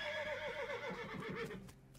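In the video game West of Loathing, a horse gives a loud, wavering whinny with a trembling, descending pitch, followed by a few soft hoof clops as it trails off.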